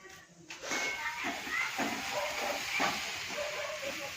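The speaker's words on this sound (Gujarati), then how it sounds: "સરસ ડુંગળી શેકી રહ્યા છો" Onions roasting in a pan for onion-tomato chutney, a continuous bright hiss and sizzle that starts abruptly and holds steady at a moderate level, close by.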